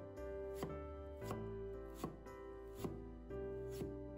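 A knife chops peeled ginger into thin shreds on a cutting board, with four or five evenly spaced, sharp cuts over a steady low background hum and no talking.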